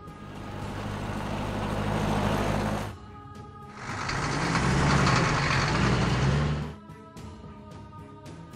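A police car in a monster truck kids' video game rumbles through two loud engine bursts separated by a short idle, the second fuller and heavier, with no siren or talk.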